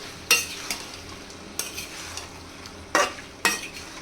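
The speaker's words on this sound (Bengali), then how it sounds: "এখন সবগুলো একসাথে ভালো করে নেড়ে নিব।" Spiced potatoes and liver curry get stirred in a pan over the heat, with a faint sizzle under a handful of sharp spoon scrapes and knocks against the metal at uneven intervals.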